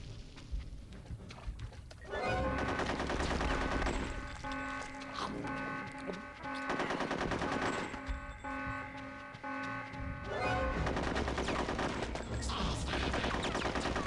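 Gunfire in the video game Conker's Bad Fur Day, loud repeated shots over a dense, continuous layer of game music and effects, with short bursts of fire spread through the clip.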